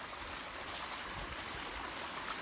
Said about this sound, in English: If you listen, you can hear a waterfall.